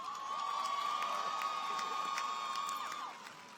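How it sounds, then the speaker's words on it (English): Graduates and audience at an NCCU undergraduate commencement cheer and whoop, a distant crowd roar with a sustained shrill whistle-like tone and scattered claps, fading after about three seconds. "Give yourself a round of applause"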